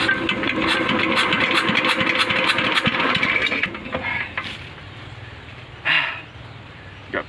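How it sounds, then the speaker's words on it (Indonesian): A water pump engine runs at a well in a rice field, loud and rough with rapid knocking pulses for several seconds, then drops back to a quieter idle with a brief burst near the end. "Mesinnya gak sip."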